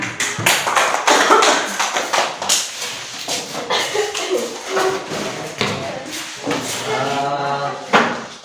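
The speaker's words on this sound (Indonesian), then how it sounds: "Tepuk tangan" Classmates in a school classroom clap after a group presentation, a dense burst of many hands patting fairly close, with a few voices mixed in near the end.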